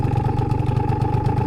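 A cold Aprilia SR50 scooter fitted with a 70cc kit runs close by with a loud, even two-stroke engine note, pulsing in a steady rapid rhythm, with no voices.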